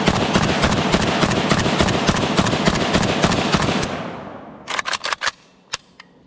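A KUSA KR-103SF AK-pattern rifle fires Red Army Standard ammunition from an arsenal magazine in a long, loud, rapid string of close shots, followed by a few spaced single shots as the firing ends.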